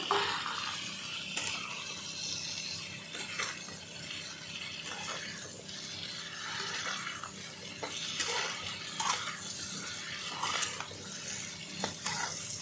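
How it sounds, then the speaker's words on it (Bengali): Pumpkin is stirred into a spiced dried lotte fish curry in a pan, giving scraping, clattering stirs over a soft, continuous sizzle, close and unhurried, with no talk. "এবার কুমড়োগুলো দিয়ে দেব, ভালো করে মিলিয়ে নেব।"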